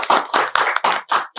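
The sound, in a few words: audience applause for a young anchor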